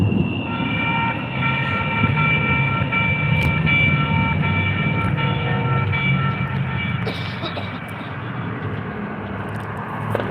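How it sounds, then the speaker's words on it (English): Fast trains rush past a Sacramento rail station, a loud continuous rumble and whine of rail cars with steady clatter and a sustained horn-like tone, fading slightly toward the end. "Yeah, the trains are very, as you can see, they're extremely fast."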